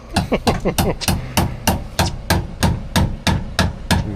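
Loud, steady hammer blows strike about three times a second, a rapid flurry at first and then an even, ringing rhythm.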